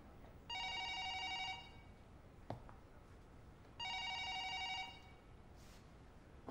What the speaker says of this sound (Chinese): 帮忙接个电话。